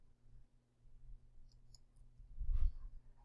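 Faint computer mouse clicks sound against a quiet low hum, with a few soft, sparse taps and one slightly louder cluster near the end.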